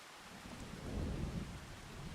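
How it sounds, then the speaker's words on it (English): Rolling thunder over steady rain in Farming Simulator 25, a low rumble swelling in the middle and easing off while the rainfall hisses throughout, no voices. "Why is there still thunder sounds?"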